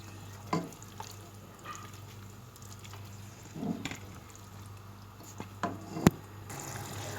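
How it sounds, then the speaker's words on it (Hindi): Keema mixed with yogurt is fried in a pan while being stirred. Faint sizzling runs under a low steady hum, broken by a few sharp scrapes and clinks of the spoon against the pan. "अब दही डाल के हम कीमे को अच्छी तरह भूनेंगे।"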